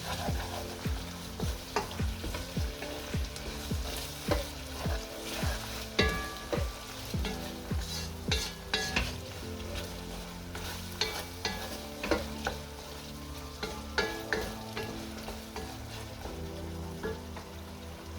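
Smoked meat and beans fry in a pot, stirred in a steady rhythm of repeated scraping strokes over a constant close sizzle that carries on throughout.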